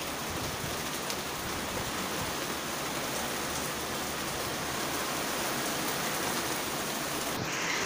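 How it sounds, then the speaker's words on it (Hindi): Heavy rain pours steadily and loudly, a dense continuous hiss of drops drumming on surfaces with no break throughout. "मुझे देखिए कितनी तेज़ बारिश आई है अभी।"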